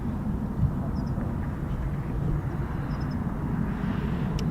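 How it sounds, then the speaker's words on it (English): An F-35B jet engine spools up at an RAF air base, heard as a steady, distant roaring rumble that holds at even loudness throughout, with a few faint chirps above it. "is that another F-35B I can hear spooling?"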